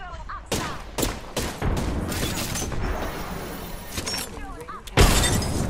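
Glass shattering repeatedly in a shooter video game, several sharp crashing bursts mixed with gunfire-like bangs; a player talks over the action.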